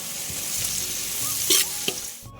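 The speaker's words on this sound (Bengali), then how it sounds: "ক্যাপসিকাম দিলাম, বিনসগুলোও একসঙ্গে দিয়ে ভালো করে ফ্রাই করে নেবো, ভেজে নেবো।" Capsicum and beans stir-fried together in a pan for Bengali fried rice, giving a soft, continuous sizzle broken by a few scraping stirs and brief clatters of the utensil.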